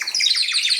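A small bird gives a rapid run of bright, high chirps, loud and close, lasting under a second with no voices.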